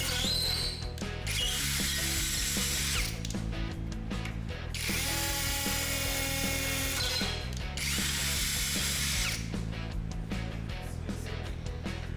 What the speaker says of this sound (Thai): ระบบกระแทกสำหรับเจาะอิฐหรือปูน